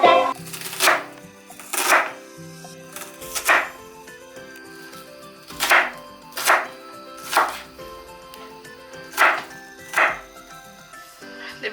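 Onions are chopped on a kitchen board for a home-cooked meal, with knife strikes landing close in short clusters of two or three every couple of seconds, over faint background music.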